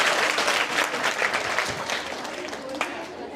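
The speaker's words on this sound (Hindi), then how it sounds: "सब एक दूसरे के लिए तालियां हो जाइए" Children clap for one another during a radio programme session, a brief burst of dense applause with some voices mixed in.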